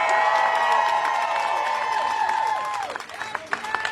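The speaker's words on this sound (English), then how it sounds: "So let's give them a big round of applause." A large rally crowd in Washington, DC cheers, whoops and applauds loudly at a Medicare for All event, a dense roar with shouts on top that thins toward the end into scattered claps and calls.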